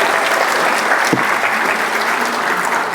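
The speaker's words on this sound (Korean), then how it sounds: "박수 한번 주세요." Steady, dense applause from a large audience at a Korean corporate event, continuous and fairly loud throughout, with a brief low thump near the middle and no speech over it.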